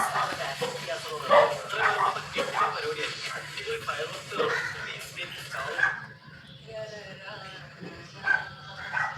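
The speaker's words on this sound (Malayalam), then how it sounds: "പട്ടി" A dog barks and yips in short bursts close by in a home, with someone talking almost throughout over the barking.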